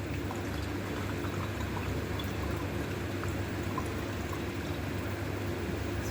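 Remaining water is poured into a zeolite synthesis gel for mordenite preparation, giving a steady, continuous liquid pour with a low rushing hum throughout and no speech.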